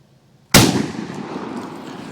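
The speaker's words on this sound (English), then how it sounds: "I'm gonna start out with this Winchester Super X, just regular old rifle Foster type slug out of the Citadel Boss Hog" A single 12 gauge shot from a Citadel Boss Hog shotgun firing a Winchester Super X Foster slug into ballistic gel, a sudden loud blast after brief quiet that rings out and decays slowly outdoors.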